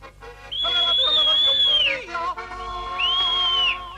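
Whistled call to gather a herd of goats in an animated mountain show: two long, clear, wavering high whistles, the first about one and a half seconds and the second shorter, with no talk.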